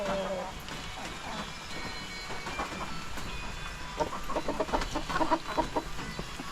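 A hen clucks outdoors, with short bursts of clucks rising in the second half over a constant low background rumble.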